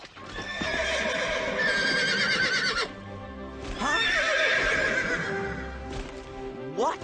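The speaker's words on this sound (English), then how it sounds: "That's Pegasus, the winged horse of the gods." Pegasus, the winged horse of the gods in a cartoon, neighs loudly in two long whinnies with hoofbeats clip-clopping beneath, then a shorter rising call at the end.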